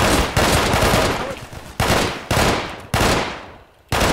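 Gunfire in GMod SantosRP during a bank robbery, with four loud, close bursts of rapid shots, each cutting in sharply and then decaying with a reverberant tail.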